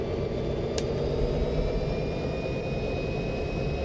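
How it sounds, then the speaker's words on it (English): A GP40 diesel locomotive idles inside its noisy cab in Train Simulator 2020 on the Salt Lake route, a loud continuous low drone with a thin steady whine above it and a single sharp click near the start. "You know, the GP40 is a little bit noisy inside."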